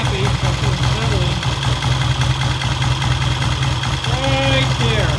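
A vintage British motorcycle engine idling, its steady low rumble and throb continuous and close, with some faint tonal whine over the top.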